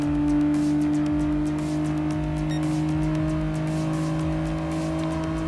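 A Renault Clio race car's engine drones steadily in Gran Turismo Sport, racing at Goodwood Motor Circuit, a loud, sustained buzzing whine holding near-constant revs with faint shifts, alone without voices.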